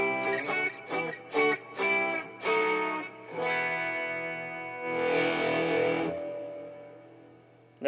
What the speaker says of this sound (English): And now the coil tap.